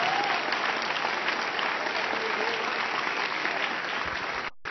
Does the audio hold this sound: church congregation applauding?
yes